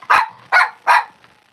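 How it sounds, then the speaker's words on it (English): A pet dog barks three times in quick succession, loud and close, followed by a faint fourth yip. "stop barking at me"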